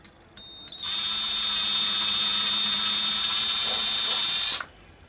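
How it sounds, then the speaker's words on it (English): An electric drill whirs steadily at high speed for about four seconds, close and loud, starting and stopping abruptly. "I love my new drill"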